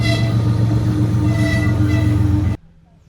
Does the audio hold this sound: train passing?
yes